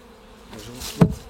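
Honeybees buzz during a beehive inspection, one brief close buzz swelling over about a second as a bee passes near.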